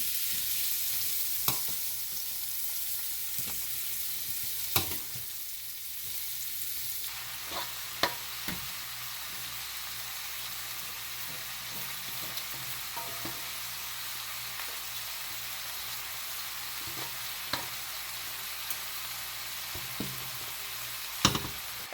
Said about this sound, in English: Add my shrimp into my oil.